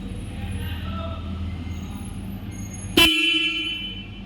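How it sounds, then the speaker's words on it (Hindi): A Jawa 42 Bobber motorcycle horn sounds once, a sudden loud, bright single honk that cuts in over a low idling engine murmur and holds for over a second. "बाइक का हॉर्न प्रेस करते हैं कि कितना लाउड जाता है।"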